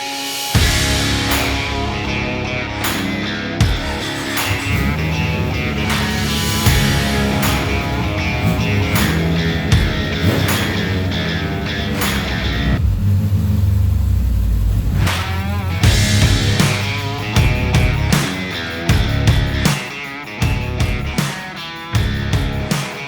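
A Suzuki Bandit motorcycle runs on a test ride, its engine droning loudly with rising and falling revs through gear changes, continuous and close throughout.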